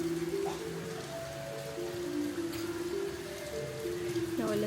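Steady rain falls with a constant hissing patter on surfaces, while faint voices and other tonal sounds come and go in the background.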